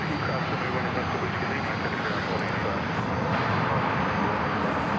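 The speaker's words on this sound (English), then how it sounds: "That's a 737-800." An American Airlines Boeing 737-800 jet roars steadily as it departs DFW Airport, a loud, broad, unbroken engine rumble heard from nearby.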